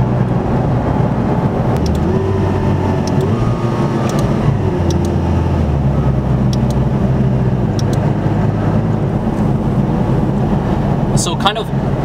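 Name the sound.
McLaren 570S Spider sports car driving, top up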